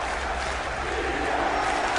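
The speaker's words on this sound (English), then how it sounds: "Defense chant." A Patriots crowd roars continuously in a packed football stadium, chanting for the defense. The noise comes as a loud, dense, sustained wall of voices with no single voice standing out.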